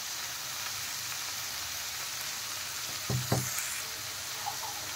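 Chopped tomatoes and salt sizzle in a hot pan for paneer bhurji, a steady close crackling hiss with a couple of sharper bumps and stirring clatters midway, no voices.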